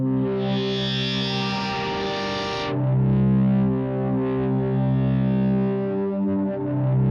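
Korg Wavestate Native synth sustaining a rich, buzzy chord through its guitar amp effect, thick and distorted with a bright hiss that cuts off abruptly partway, leaving a warmer, loud held tone alone without talk.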